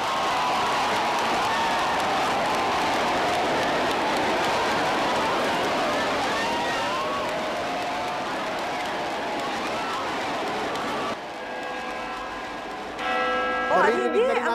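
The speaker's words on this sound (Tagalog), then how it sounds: "Naririnig na rin namin sa himpapawid yung tunog ng kampana mula sa Manila Cathedral" Church bells of Manila Cathedral peal through a loud, bustling crowd awaiting the Pope, ringing continuously under the cheering before the noise drops away and clearer tones ring out near the end.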